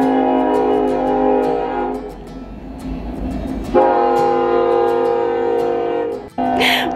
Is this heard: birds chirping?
no